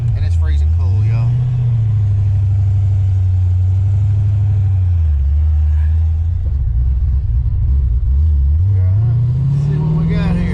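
A modified car fitted with a Trick Flow top end kit drives off with a loud, deep engine drone that rises and falls with throttle, heard from inside the car.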